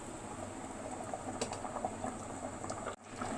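Rice boiling in a pot for Mandi biryani, a steady bubbling simmer with soft patter holding level throughout, briefly dipping near the end, with no voices.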